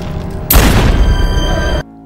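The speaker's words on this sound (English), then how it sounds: "That is a pistol." A pistol fires in a scene from Michael Almereyda's Hamlet: one loud, close crack sets off a dense burst of noise that lasts over a second and then cuts off sharply.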